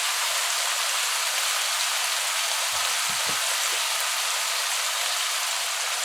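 Eggplant and eddo are washed together in water: a steady, close rush of water runs throughout, with a few soft low knocks just before the midpoint and no talk.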